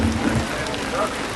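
Steady rain falls at an outdoor Independence Day flag-hoisting event in Ramban, Jammu, making a continuous close hiss of drops on surfaces throughout, with no clear voices.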